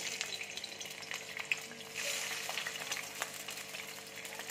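Peeled boiled eggs fry in a small amount of hot oil, giving a steady, fairly quiet sizzle and crackle with a few sharper pops and no voices.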